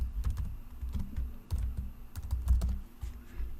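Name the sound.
typing an email address on a computer keyboard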